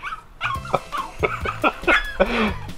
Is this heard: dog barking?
yes